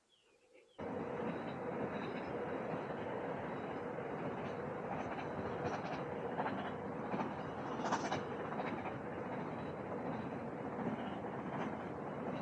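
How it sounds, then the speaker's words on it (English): A freight train rumbles steadily past at some distance as it crosses a viaduct, a continuous rolling roar with faint rhythmic clatter and occasional metallic squeals. "Even managed to catch a freight train going over it"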